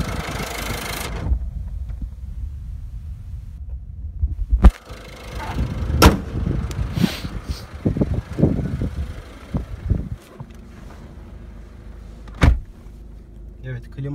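A steady low engine hum fills the interior of a Citroen C-Elysee / Peugeot 301 with the ignition on and air conditioning off, with a few door or window clunks and some rustling and movement partway through.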